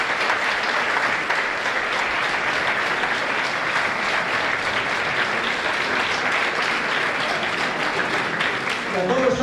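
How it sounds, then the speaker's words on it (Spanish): A crowd claps steadily and loudly at a gathering for an Asturian Christmas music event, dense applause sustained throughout without pause. "para él pido un aplauso también"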